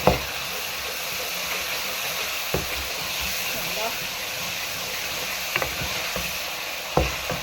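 Tomatoes stirred into a frying spice mix with turmeric in a pan, a steady loud sizzle and hiss throughout, with occasional sharp clicks of the spoon against the pan.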